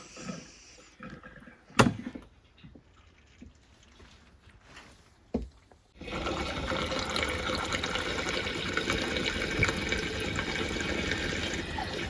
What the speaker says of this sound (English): Take out the spout and pour it in once it gets to a certain point.